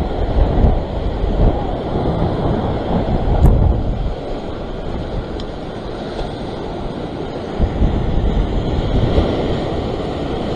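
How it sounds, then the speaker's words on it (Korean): Ocean waves rolling onto the shore during sea fishing on the coast near Sydney, Australia, a loud continuous roar of surf with swelling surges and gusty wind noise and no talking. "파도는 항상 리듬이 있다고 했어요."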